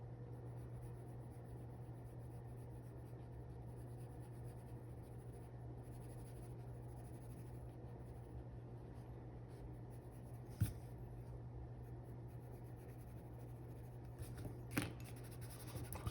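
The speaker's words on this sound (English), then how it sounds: "This is just the dark brown colored pencil." Dark brown colored pencil drawn across paper to render brick wall detail, a faint, steady scratching that runs throughout, with a couple of sharp little clicks near the end.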